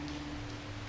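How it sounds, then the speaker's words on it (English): Heavy rain pours steadily on a bicycle tour from Bangkok to Malaysia, a dense, even hiss of falling water with a low steady hum underneath. "Physically, this is quite strong rain."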